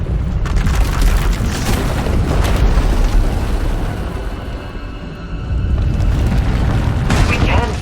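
A massive power eruption tears through an asylum in the game SWTOR, a long roaring rumble with repeated booming blasts and crackling debris, loud and continuous, with voices under the noise.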